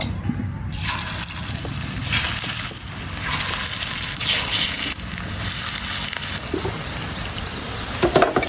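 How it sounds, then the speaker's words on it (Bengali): Cauliflower fritters fry in hot oil with a steady, dense sizzle and crackle that runs continuously at close range, with no voices. "ফুলকপির বড়াটা ভেজে নেব"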